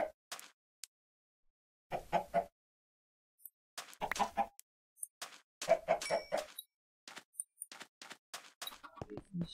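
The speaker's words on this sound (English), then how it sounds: "Got three chickens in there." Chickens cluck in the video game Minecraft, several short bursts scattered across the clip with quiet gaps between them, fairly close and moderately loud.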